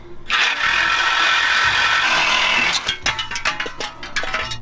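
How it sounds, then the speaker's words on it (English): A loud, steady grinding screech of a cutting tool biting through a metal exhaust pipe, then breaking into scattered clanks and taps as the cut finishes. "Time to cut the exhaust off more."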